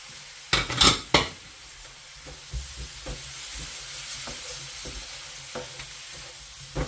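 A pot of aromatic beef curry, with the browned beef just added back, gets stirred: a quick cluster of loud metal scrapes and clanks, then softer scattered spoon knocks over a faint sizzle, close by with no voices.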